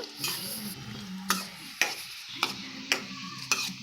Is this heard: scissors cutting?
no